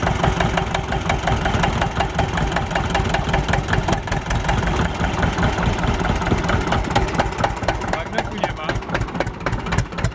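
A Zetor 25A tractor engine runs steadily close by, a loud continuous low rumble with a rapid regular knocking beat throughout, voices briefly heard over it.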